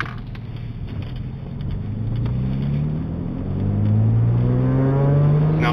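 An MG ZS 180 saloon with a 2.5 V6 engine pulls away gently from a stop, its engine note rising steadily in a smooth, moderately loud interior drone with no talking.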